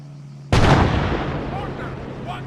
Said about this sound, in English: Mortar, 1 click, northeast